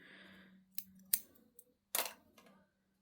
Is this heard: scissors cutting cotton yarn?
yes